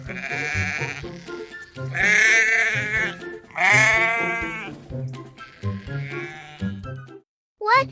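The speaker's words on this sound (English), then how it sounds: "Sheep." A sheep bleats loudly and close by in a series of four or five wavering calls separated by short pauses, with no other sounds.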